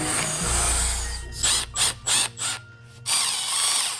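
A fixture being screwed onto the bone of an animatronic skeleton, with a power driver whirring close up in several short bursts between brief pauses, then running again at the end.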